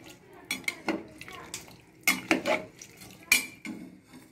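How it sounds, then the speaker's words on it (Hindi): Spoon or spatula scraping and clinking against a pan while masala is mixed into vegetable rice, a series of irregular metallic knocks and scrapes, close and moderately loud, with no talk. "अभी मैं वेज राइस का मसाला मैं ऐड किया, थोड़ा मिक्स कर लेता हूँ"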